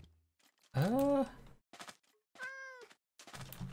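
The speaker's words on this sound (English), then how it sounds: "this must be an actual village, yeah, because cats are spawning here." A cat meows in the Minecraft video game, two distinct drawn-out meows, close and clear, separated by brief quiet with faint soft sounds between them.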